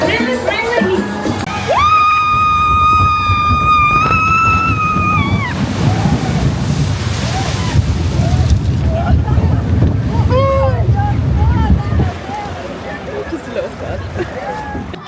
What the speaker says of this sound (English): That was a reasonable splash.